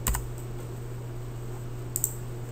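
An amount is typed on a computer keyboard during accounting data entry in SAP ERP software. A few faint, quick key clicks come at the start and again near the end, over a low, steady hum.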